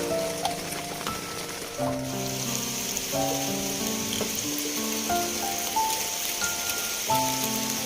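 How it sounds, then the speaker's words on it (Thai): Heavy evening rain falling in a steady, dense hiss, with a melody of clear tonal notes playing over it throughout. "บรรยากาศ ฝนตก ที่ชุ่มฉ่ำนะเพื่อน ๆ"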